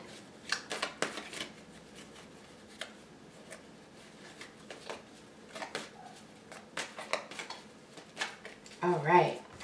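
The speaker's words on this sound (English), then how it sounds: "So let me cut the deck here for you and get your reading." A deck of tarot cards being cut and shuffled by hand, soft papery riffles and taps scattered in irregular bursts, close and fairly quiet, with a brief rustle near the end.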